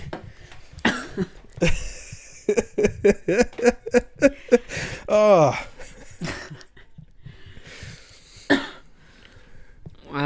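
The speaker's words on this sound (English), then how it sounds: "I just had to cough, and there was nothing I could do about it." Repeated coughing and throat clearing in bursts during a podcast recording, mixed with breathy chuckles and a short exclamation, close and fairly loud.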